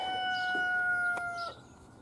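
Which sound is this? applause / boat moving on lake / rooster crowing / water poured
rooster crowing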